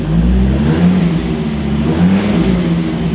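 Dodge Viper engine running with its headlights and fog lights on, a loud, close, steady low rumble with a slight rise and fall in revs.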